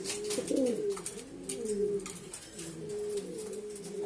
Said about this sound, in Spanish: pichoncito con 3 meses de jerezano